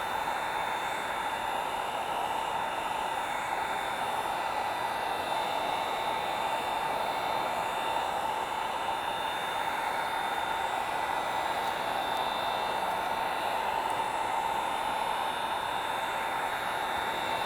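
Heat gun blowing hot air across a panel during a subwoofer install in a 2019+ BMW 3 Series G20, a steady close whooshing hiss that holds unbroken throughout with no talk.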